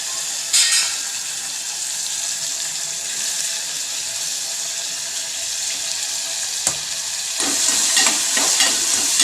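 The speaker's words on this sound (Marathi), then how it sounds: "आता इथे टमॅटो इथे टमॅटो घालत आहे" Tomatoes sizzle in a hot pan, a steady hissing fry with occasional sharp scrapes of stirring, louder and busier toward the end.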